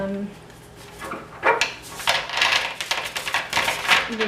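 Tarot cards being shuffled by hand at close range: a run of soft papery riffles and flicks in uneven bursts, growing busier toward the end.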